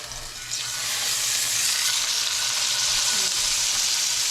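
Meat searing in a hot pan with butter, a loud steady hiss that swells after the first half-second and holds on evenly, close up.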